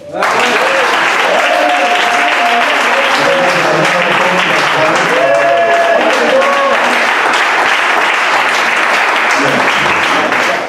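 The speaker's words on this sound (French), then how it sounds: "je voudrais qu'on acclame puissamment Jésus" A church congregation at a Bible institute gathering claps and cheers loudly in praise of Jesus, dense sustained applause with voices shouting throughout.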